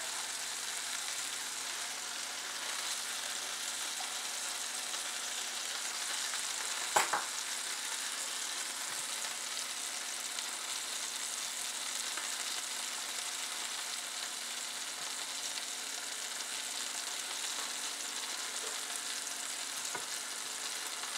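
Cream cheese and heavy cream simmering in a pan with garlic, a steady soft sizzle and bubbling throughout with one brief clink near the middle.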